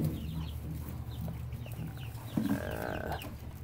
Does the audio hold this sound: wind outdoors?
no